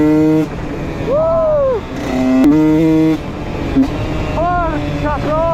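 A Husqvarna WR 125 two-stroke enduro motorcycle being ridden, its engine droning steadily between revs with rising and falling whines as the rider opens and closes the throttle, heard close and loud.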